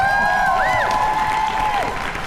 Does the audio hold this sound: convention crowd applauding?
yes